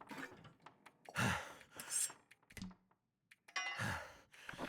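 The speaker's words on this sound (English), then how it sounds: "I get so sick of listening to his panting, though." A character in The Long Dark survival game breathes in heavy, ragged pants and sighs, several breaths in uneven bursts with a short pause midway, close and fairly quiet.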